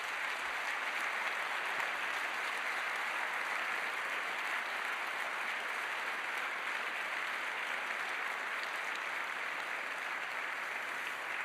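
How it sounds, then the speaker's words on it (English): A dense wash of audience applause at a university honorary degree ceremony, sustained and even throughout, heard from a distance across a large hall. "And maybe give them a round of applause."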